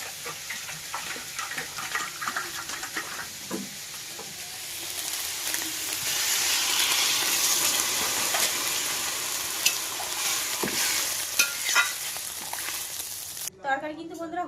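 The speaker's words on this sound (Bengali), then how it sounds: "কুমড়ো কিন্তু ভাজা ভাজা হয়ে গেছে এবার কিন্তু জল দিয়ে দেবো" Pumpkin curry frying in a hot pan sizzles as water is added, a steady broadband hiss swelling midway with scattered clicks of stirring, and a voice talks briefly near the end.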